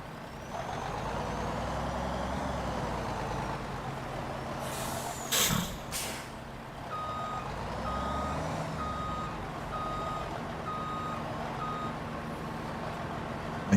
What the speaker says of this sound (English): See what happens here with the truck here